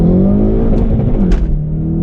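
A Hyundai Veloster N accelerates hard in first gear with the throttle floored, its engine rising loudly and steadily in pitch, heard close from inside the car for about two seconds.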